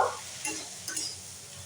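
A spoon stirring chopped vegetables in a frying pan, with soft scraping strokes over a low sizzle, close and fairly quiet.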